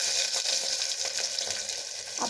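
Garlic cloves sizzle and spatter steadily in hot oil at close range, a bright hissing fry with no voices.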